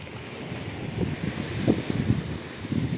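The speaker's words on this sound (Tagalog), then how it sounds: "Ang hangin ngayon mga kasoyo ay amihan." Steady northeast monsoon wind blowing over open sea, a broad rushing roar with low gusty surges and buffeting against the microphone, no voices.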